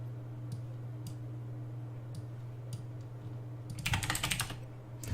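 Someone types code on a computer keyboard: scattered single keystrokes at first, then a quick burst of close, crisp clicks, over a steady low electrical hum.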